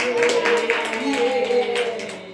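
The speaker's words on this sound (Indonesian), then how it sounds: "Tepuk tangan." Clapping in a classroom during a micro-teaching practice lesson on belief in angels, a short burst of hands from a small group, mixed with voices talking over it.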